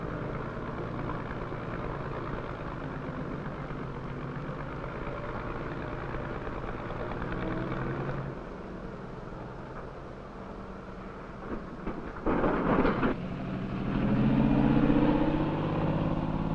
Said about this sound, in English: The dam area is waking to the roar of diesel engines